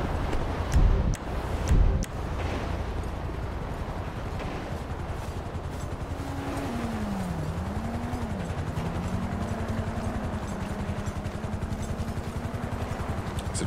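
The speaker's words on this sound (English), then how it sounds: "There's a chopper up here too." A police helicopter in Grand Theft Auto 5 drones steadily overhead with a constant rotor hum, preceded by a couple of sharp bangs near the start.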